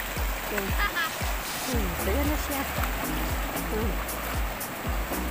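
An old man swims in a small pool of seawater, with steady splashing and rushing water under repeated close male speech.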